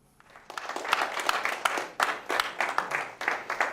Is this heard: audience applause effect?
yes